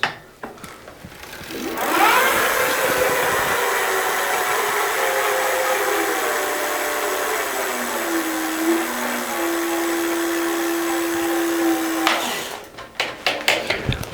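An e-bike hub motor spins a raised rear wheel on throttle, rising into a steady loud whirring drone that holds for about ten seconds and then winds down, followed by a few clicks and rattles.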